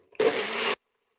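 A blender whirs loudly in one short burst of about half a second while ranch dressing is being mixed in a home kitchen, then stops dead into silence.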